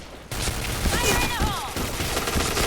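K-2 rifle gunfire in the shooter game Point Blank, loud close shots cracking in a rapid cluster while someone talks over them.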